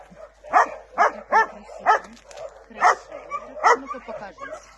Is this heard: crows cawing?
no